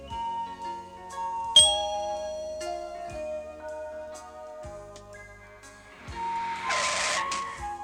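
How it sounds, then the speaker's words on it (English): A read-along storybook from 1985 sounds a bright ding-dong chime with ringing bell tones that fade over several seconds, followed by a sustained mellow musical tone and a brief hissy swell. "Remember to turn the page each time you hear the chime."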